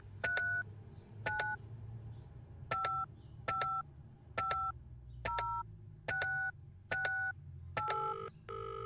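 Touch-tone phone dialing in the video game Penelope Pendrick: a run of about ten separate DTMF key beeps at an uneven pace, fairly clean and close, with a faint low hum underneath.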